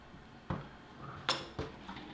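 A zucchini bread loaf pan is flipped onto a wire rack, giving three or four sharp metallic clinks and knocks spread over two seconds, close and clear, with no one speaking.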